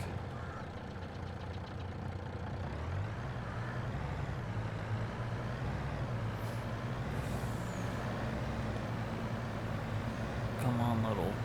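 Semi-truck in the Farming Simulator 22 video game, a steady low engine rumble that rises slightly as it gets moving, ending with a brief sharp hiss like an air brake release.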